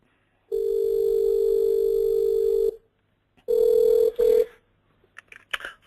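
An office phone line rings out with two long electronic tones and a shorter double burst, loud and clean, followed by faint clicks as the call connects to a voicemail greeting.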